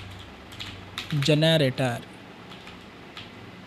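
Soft keystrokes from code being typed on a computer keyboard, heard before and after a short spoken phrase in the middle.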